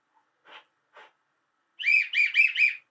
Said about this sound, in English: It's like a police whistle.